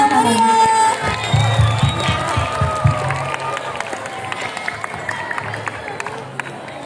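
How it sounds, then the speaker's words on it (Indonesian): A crowd at a school student council candidate debate claps and cheers briefly, then the applause thins into scattered noise and a few voices in a large room. "Oke, tepuk tangan."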